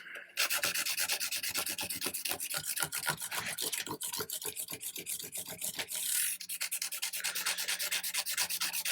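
Dense rhythmic rubbing strokes of 240 grit sandpaper worked along the edges of a wooden guitar fretboard and fret ends on a handmade neck, close and steady with no talk.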